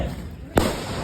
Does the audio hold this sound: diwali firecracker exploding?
yes